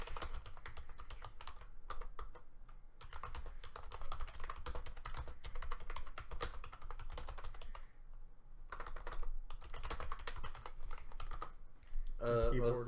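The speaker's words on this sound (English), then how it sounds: "It's a gaming keyboard." Fast clattering keystrokes on a gaming keyboard, continuous bursts of close typing with brief pauses, heard without speech in the background.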